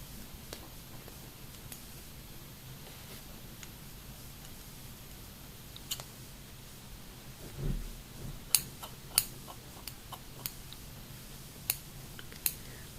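Hairdresser scissors snip in a quiet indoor setting, producing sparse, sharp, close clicks at irregular intervals that cluster toward the end over faint background hiss.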